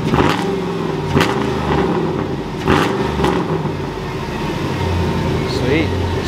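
A car engine rises in pitch several times as the throttle is pressed, close by, with people talking over it.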